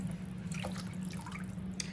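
Meat cooking liquid poured from a bucket into a pot for a rice dish makes soft, steady trickling and dripping, faint under a constant low hum.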